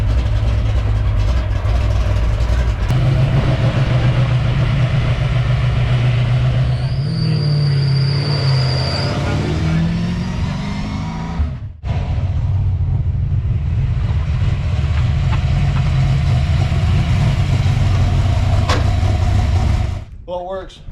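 A freshly repaired drift car engine drones loudly and steadily on a test drive, with a rough low rumble, a brief dip about halfway through and a strong continuous roar until it cuts off at the end.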